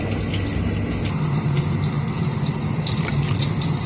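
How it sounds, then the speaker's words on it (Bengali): Water runs into a spice mix of turmeric, chilli, coriander and cumin powders to make a paste, a continuous close trickle and gush with no voices. "একটু জল দিয়ে একটু পেস্ট বানিয়ে নেবো"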